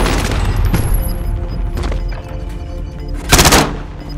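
Enemy gunfire in Call of Duty: Modern Warfare: loud, close bursts of automatic fire crack in rapid succession, with a heavier volley near the end over a dense game soundscape.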